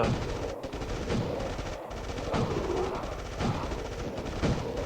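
Rapid gunfire from the mobile survival game State of Survival, dense repeated shots forming a steady loud barrage throughout with brief gaps.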